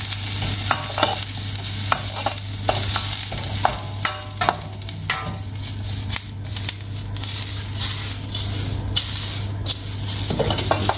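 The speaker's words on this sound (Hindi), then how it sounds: "इसको मैं सौटे कर लूँगा हल्का सा करके।" Julienned carrots sautéing in a pan for a vegetarian stir fry rice, with a continuous close sizzle broken by repeated scraping stirs and clacks from a utensil on the pan, plus a low steady hum beneath.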